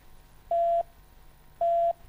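Telephone line tone after a dropped caller on a live 2013 PTV Bolan morning TV show: two identical steady beeps, each about a third of a second, repeating about a second apart over faint background hiss.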